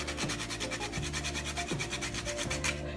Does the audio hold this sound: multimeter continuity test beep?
no